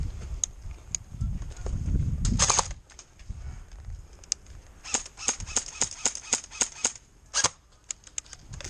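An LCT airsoft AK rifle fires a string of sharp, evenly spaced single shots close by, each a crisp snapping crack, after a brief rustling handling noise near the start.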